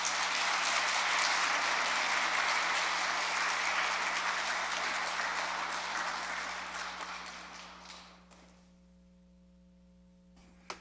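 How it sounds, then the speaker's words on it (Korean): Lecture hall audience applauding to welcome a lecturer to a Lenten talk at a Catholic church, sustained dense clapping that fades out, leaving a steady electrical hum and near silence. "우리 큰 박수로"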